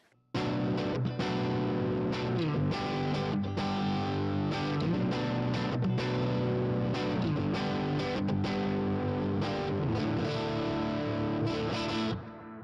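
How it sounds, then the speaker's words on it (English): An electric guitar through a Line 6 POD HD500x plays chords and picked notes with a shimmering, swirling chorus effect, steady and fairly loud throughout. "Here's what the chorus sounds like."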